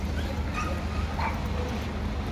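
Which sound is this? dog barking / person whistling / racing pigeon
dog barking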